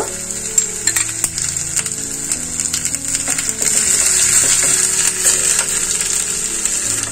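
Grated ginger, asafoetida and whole cumin seeds frying in hot ghee, a loud close sizzle with crackles and utensil clinks that swells and steadies midway, no one speaking.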